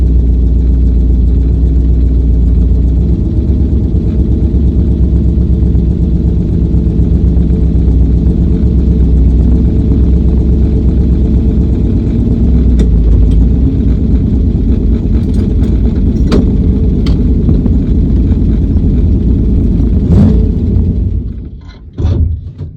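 The engine of the Flying Turd track-cross race car, with a seizing left front caliper, drones loud and steady as it drives the skid pad, then drops away abruptly near the end.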